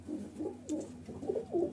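Pigeons of a Malwai Punjabi breed coo several times in soft, low, rolling phrases, close and fairly quiet, with no talking over them.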